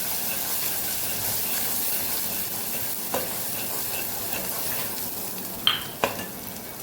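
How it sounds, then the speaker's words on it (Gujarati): Spices with turmeric and salt sizzle steadily in a hot pan, with a few sharp scraping knocks of stirring near the end. "મસાલાને સાતળી લેશું"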